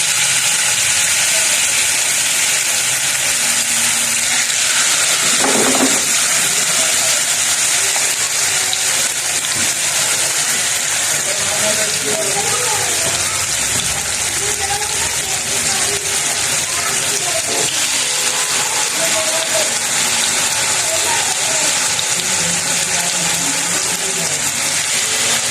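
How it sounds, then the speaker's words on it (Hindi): Chicken malai boti on skewers frying over a medium flame, a loud steady sizzle and hiss filling the whole stretch without pause. "ये मैं मीडियम फ्लेम पे इनको कर रही हूँ फ्राई।"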